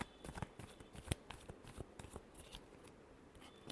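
Tarot cards are shuffled by hand in a quiet room, a rapid series of soft, dry riffling flicks and slaps, close and faint, with no talking.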